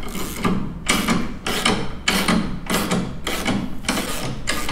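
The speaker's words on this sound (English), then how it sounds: "we're going to lower the vehicle down so that the suspension is under the normal weight of the vehicle" A lift lowers a Harley-Davidson motorcycle, giving off a run of loud, evenly spaced mechanical clacks, about one each second, that ratchet close to the listener.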